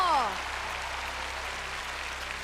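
A voice trails off, then an audience at a talent contest applauds in a steady, even wash of clapping that continues to the end.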